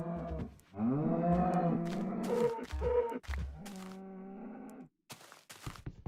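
Cows in the Minecraft video game let out several drawn-out moos and low grunts in close succession, loud and near, with brief gaps and no speech.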